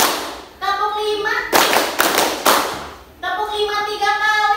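Classroom of students clapping hands in a counted rhythm, bursts of sharp claps alternating with a teacher's voice calling out the count.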